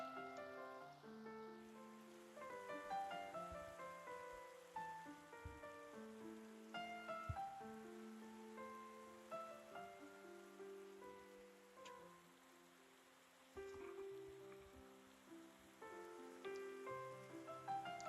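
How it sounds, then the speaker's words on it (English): Rain falling in the game Minecraft, a soft steady patter heard beneath quiet melodic game music with gentle notes throughout. "The rain falls somewhere and we can hear it."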